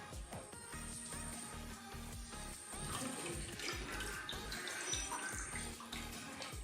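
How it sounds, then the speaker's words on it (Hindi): Cold water drains slowly from a pot of curdled milk while paneer (chhena) is separated, a faint, steady trickle and splash with gentle gurgling and no voices present. "पानी इस तरह निकाल लेंगे।"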